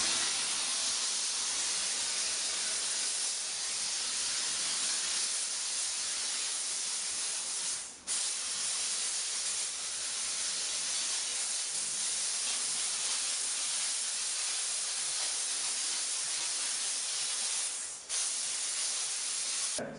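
An SV6 steam cleaner releases a steady, loud hiss of steam that runs almost unbroken through the whole stretch, with two brief dips where the flow cuts momentarily.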